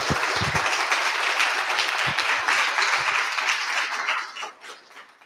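Conference audience at a professional meeting applauding colleagues with sustained clapping from many hands, steady and moderately loud, then tapering off toward the end.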